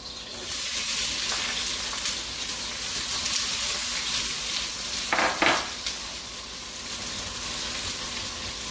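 Onion and ginger fry in a pan for beef yakisoba, giving a steady, close sizzle with a few scrapes and clinks of a utensil against the pan near the middle, and no voices.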